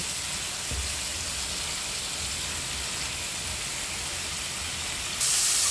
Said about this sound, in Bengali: এই যে মশলাটা কষানো হইতেছে